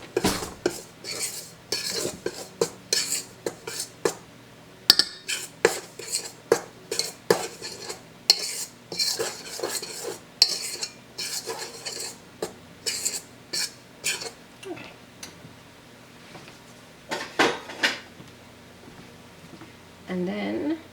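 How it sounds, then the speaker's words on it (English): A utensil quickly mixes starch, salt, baking soda and baking powder in a bowl for drop biscuits, with rapid close clinks and scrapes in bursts that thin out toward the end. "Then we're just going to mix this together really quickly."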